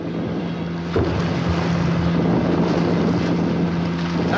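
Motorized military assault boats wheel around on open water, a loud continuous engine drone with a steady hum and wind rush, no voices.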